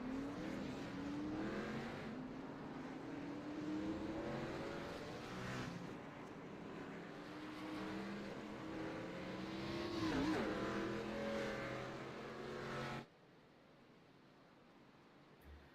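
Race cars in a sim racing game rolling by on a starting lineup at Charlotte, engines droning and shifting in pitch as several cars pass one after another before the sound cuts abruptly to a quiet hum.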